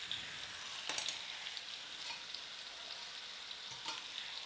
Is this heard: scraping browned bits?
yes